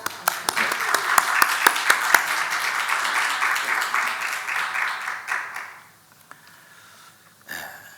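A church congregation claps together in dense, lively applause that carries on for several seconds and then fades away, with a few murmurs after it.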